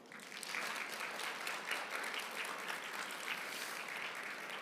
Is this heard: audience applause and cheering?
yes